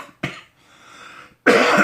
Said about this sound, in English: Excuse the cough, y'all.